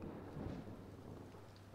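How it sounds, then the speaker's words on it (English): Rain and thunder in the video game Impostor Factory: a faint, steady wash of rainfall with a low distant rumble swelling briefly, quiet and continuous, with no voices. "Why is it raining?"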